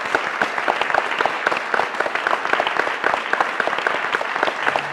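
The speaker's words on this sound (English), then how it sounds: "Please join us in a strong and deeply heartfelt round of applause" An audience applauds at a reception, a dense, steady burst of many hands clapping close by, filling the whole stretch evenly without voices.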